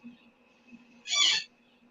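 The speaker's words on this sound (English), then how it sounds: "Sarah, your bird sounds like a squeaky bed." A pet bird lets out a single harsh, squeaky screech, like a creaky bed spring, loud and close against a quiet room with a faint steady hum.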